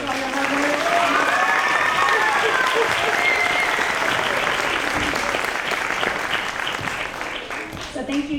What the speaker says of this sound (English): will you please stand so we can give you a round of applause for all your hard